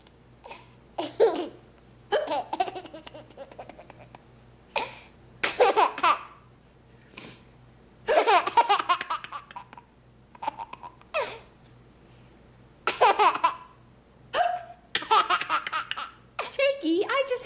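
A young child laughs in repeated giggling bursts, with short sharp adult hiccups in between, close by in a quiet room, and no clear speech.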